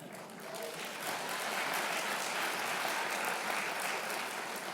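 A synagogue congregation applauds during a Kol Nidre sermon, a dense sustained roar of many clapping hands that swells slightly and holds steady, no voices on top.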